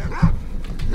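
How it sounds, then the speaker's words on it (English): Dogs bark in the video game S.T.A.L.K.E.R. Call of Pripyat, with one loud, close bark followed by fainter yips and whimpering in a short burst. "I hear dogs."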